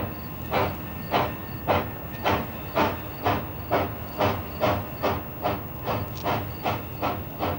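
A steam locomotive chuffs in a steady, even rhythm, each puff a sharp hissing burst, repeating about three times a second and fairly close.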